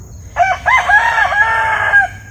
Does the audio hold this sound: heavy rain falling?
no